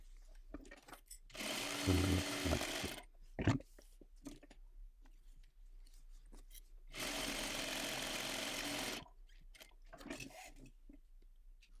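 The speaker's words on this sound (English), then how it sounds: "lift up the pocket lining and push the main panel lining out of the way and just stitch on the pocket" A sewing machine stitches a pocket onto the lining of a crossbody bag, running in two sustained bursts with a pause and a sharp knock between them, close and fairly loud with no talking.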